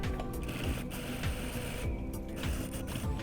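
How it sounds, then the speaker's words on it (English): A sewing machine stitches down the hem of a shop apron pocket, running in close, steady bursts of rapid mechanical chatter with no talking. "we're going to sew it down"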